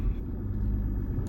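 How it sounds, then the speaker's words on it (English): A Jaguar XJ Portfolio (X351) engine comes to life, a deep, steady low rumble heard close up with no talking. "start the car up."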